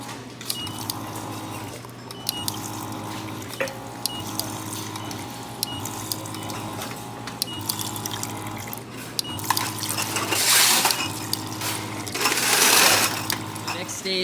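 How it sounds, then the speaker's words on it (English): A liquid filling machine on a Cordyceps militaris mushroom farm runs in a steady rhythmic cycle, dispensing into containers with pulsing mechanical clicks, a motor hum and splashing bursts of liquid. It is heard up close in a busy room. "at this scale, it's really easy to use these liquid filling machines."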